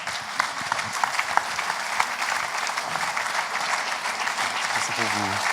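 Sustained audience applause at the Louis Blum prize ceremony at the Shoah memorial, even and continuous clapping throughout, with a voice starting briefly near the end.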